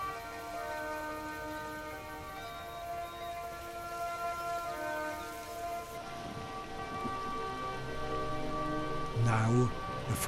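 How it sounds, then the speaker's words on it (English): First rain of late summer in the taiga, a steady soft patter and hiss of drops falling continuously around the listener, with a faint clatter and a couple of louder knocks near the end. "Now the first rains start."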